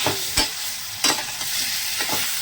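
Vegetables and prawns frying in a pan, heard as a constant sizzle with a few loud, sharp utensil scrapes and stirring knocks up close.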